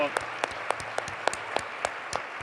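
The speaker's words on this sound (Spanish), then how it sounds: "Un aplauso para ella, porque la verdad fue muy persistente." Applause comes as evenly spaced claps in a steady rhythm, fairly faint, with a soft murmur underneath.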